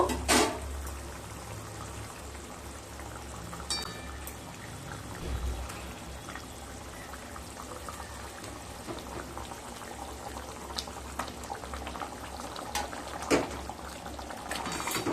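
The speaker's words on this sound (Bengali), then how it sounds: "তরকারিটা ফুটে এসছে।" A pan of sweet-sour-spicy Bengali katla fish curry bubbles at a steady boil, a continuous close liquid burble and hiss with a few brief clinks, no one talking.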